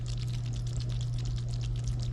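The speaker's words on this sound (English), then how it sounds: "If your macaroni and cheese don't sound like this, y'all ain't doing it right." Macaroni and cheese being stirred, a wet, squelchy, continuous sound under a steady low hum, fairly faint and with no talking.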